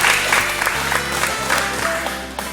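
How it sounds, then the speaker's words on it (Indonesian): Audience applause breaks out during a marketing workshop talk in Indonesia, a steady wash of clapping from a crowd with a low hum beneath and faint voices mixed in. "Tepuk tangan dulu biar meriah"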